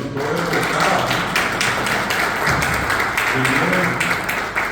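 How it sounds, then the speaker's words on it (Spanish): Audience applause at a Guarani language and culture tribute ceremony in Paraguay: dense, sustained clapping from a crowd that fills the whole stretch at steady loudness, with voices mixed underneath. "vamos a darle un aplauso porque vinieron todos de Emboscada"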